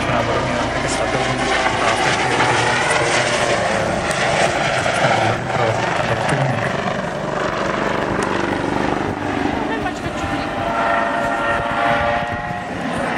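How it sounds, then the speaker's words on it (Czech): A Eurocopter EC 135 T2 helicopter at an air show runs loud and close, its turbine whine and steady rotor throb filling the scene without pause. "Výrobce tohoto vrtulníku je firma Eurocopter z Německa."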